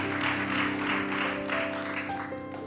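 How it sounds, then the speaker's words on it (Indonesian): Audience applause for Pak Anies at a celebrity talk show taping, a steady wash of clapping that stays even throughout over a low musical background. "akhirnya tepuk tangan sekali lagi dong buat Pak Anies akhirnya mampir"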